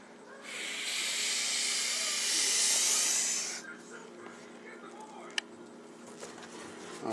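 A Suriname boa hisses loudly and steadily for about three seconds at close range, then falls quiet, leaving soft handling noises and one sharp click.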